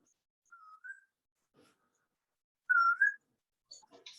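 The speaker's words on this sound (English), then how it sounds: "Is everybody hearing that weird sound? The whistle" A few short, reedy whistles come through a call line, thin and wavering tones separated by silence, with one louder, longer whistle near the end.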